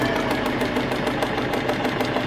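Sewing machine stitching through paper, a close, steady, fast mechanical whirring with a rapid regular needle rhythm running without pause.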